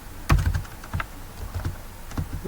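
Close keyboard typing: a sharp heavy keystroke followed by a series of lighter, irregular key clicks, with no voices.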